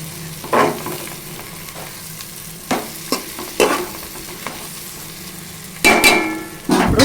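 Bitter gourd curry being stirred in a pan: repeated scraping and clanking strokes of a spoon against the pan over a low, steady sizzle, close up and without speech.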